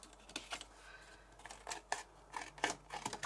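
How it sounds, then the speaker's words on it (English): Scissors snip around a book cover made from a diamond art painting, giving a few soft, close cuts and rustles spread unevenly through a quiet stretch with no talk. "what I'm going to do is trim around it."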